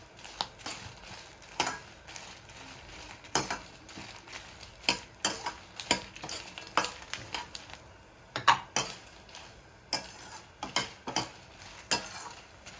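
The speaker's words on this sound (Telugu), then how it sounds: "ఒక చుక్క ఆయిల్ వేసి ఎండుమిరపకాయలు వేపిస్తాం" Dry red chillies are being fried in a drop of oil for a moringa leaf spice powder. Quiet sizzling sits under frequent scraping and stirring clicks of a utensil against the pan, with no talking.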